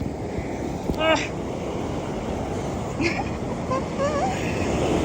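Ocean waves break and wash steadily up a sandy beach in Cancún, with wind rustling over the microphone and faint voices in the background.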